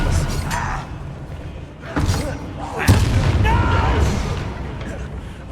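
A Confringo spell explodes in Hogwarts Legacy amid combat, several booming impacts and bursts mixed with spell effects while characters shout over the fight.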